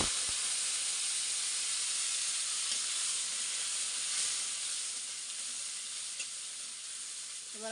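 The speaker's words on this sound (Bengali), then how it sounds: "পাঁচফোড়ন দিয়ে দিলাম তেলে" Panch phoron spices sizzle in hot oil in a home kitchen, producing a loud, dense, continuous frying hiss with faint crackles throughout and no talk.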